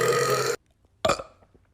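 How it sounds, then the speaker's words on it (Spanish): A long, loud, rasping burp lasts about half a second close up, followed after a brief pause by a short burst of laughter and chatter. "Hombres, ¿qué puntuación le dan a mi eructo?"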